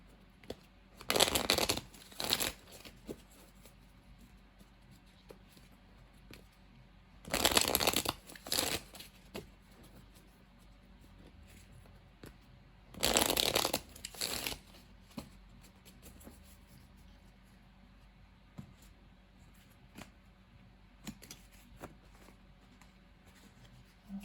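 A deck of tarot cards is shuffled in three short riffling bursts spaced several seconds apart, with quiet handling noises in between.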